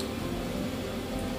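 A short, wet squishing of thick moong dal pakora batter being stirred by hand, continuous and close, with no talking.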